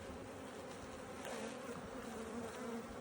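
Honey bees buzz at an opened hive on a farm apiary, a soft continuous droning hum from many insects close by, steady and without pause.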